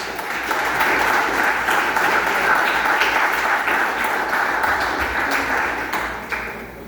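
A Spanish-speaking church congregation claps in worship, loud sustained applause from many hands filling the room for several seconds before easing slightly at the close.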